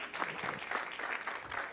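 Audience applause at the Vodafone Power Lab 2022 pitch event, a short, faint patter of clapping heard from a distance.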